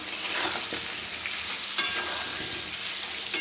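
Potatoes fry in a pan in a home kitchen, a continuous close sizzle broken by a few scraping stirs and light clinks of a utensil against the pan.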